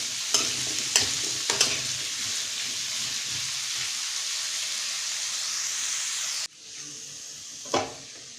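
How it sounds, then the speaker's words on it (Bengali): Potatoes frying in a pan for aloo posto, a steady close sizzle broken by several sharp stirring scrapes, then the hiss drops abruptly to a quieter simmer before one more scrape; no one speaks. "আলুগুলো আমার লাল লাল করে ভাজা হয়ে গেছে।"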